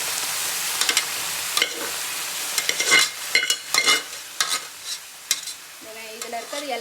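Onions frying in a pan while being stirred, heard as a continuous sizzle broken by frequent scraping and clattering strokes of a spoon against the pan.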